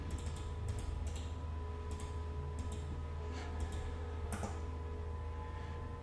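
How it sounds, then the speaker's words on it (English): Faint, scattered keystrokes on a computer keyboard as a terminal command is entered, a handful of light taps spread unevenly over a steady low hum of background noise. "we're going to type in this command."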